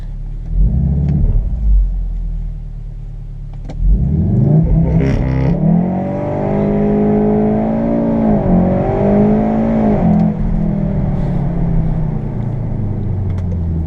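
A Volkswagen Golf R launches hard using launch control, engine revving close up before surging through the gears with a rising, rumbling roar and brief shift dips, strong and sustained throughout.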